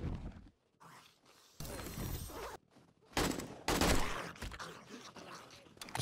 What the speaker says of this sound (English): This gun's pretty powerful.